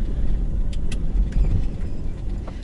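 A truck stuck in snow creeps forward, its engine a low steady rumble close by with faint clanks and rattles, no talking.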